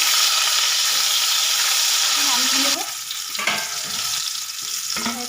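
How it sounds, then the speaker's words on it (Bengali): Rohu fish coated in salt and turmeric sizzles in hot oil with a loud, dense hiss that drops slightly partway through, followed by a few soft clatters as the pieces are turned. "এবার ভেজে নেব মাছটাকে দিয়ে দেবো মাছ উল্টো পাল্টে লাল লাল করে ভেজে নেবো"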